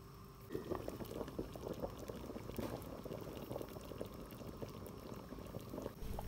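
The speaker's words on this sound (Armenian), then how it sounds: "Եփել ևս կես ժամ և խաշը պատրաստ է։" Khash, the Armenian tripe soup, boils steadily in a pot, a continuous low bubbling and churning that stays close and fairly quiet throughout, with no voices.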